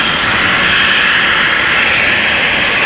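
An Embraer 190 jet departs Amsterdam Schiphol for Stuttgart, its engines giving a loud, close, sustained roar with a bright whine riding on top, unbroken for the whole stretch.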